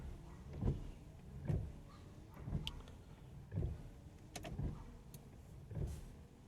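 Nissan windshield wipers sweeping on high speed, a faint regular thump-and-swish repeating about every second, with small motor whines, quiet and alone.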